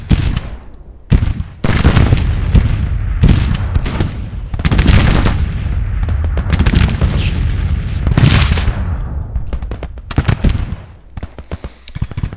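Loud, dense battle din from a Civil War video game set at Shiloh, with booming artillery and crackling musket gunfire in bursts and volleys that hardly let up.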